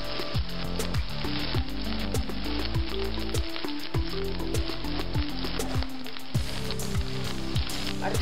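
Small-cut chopped capsicum frying in a hot pan, a loud continuous sizzle and crackle with rhythmic stirring strokes, close up and without speech.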